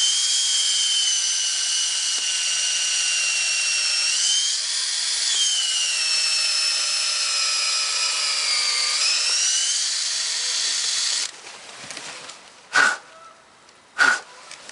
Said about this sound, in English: and you just drill away.